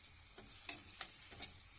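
Potatoes fry in a pan with a steady hiss, broken by a few scraping stirs of a utensil.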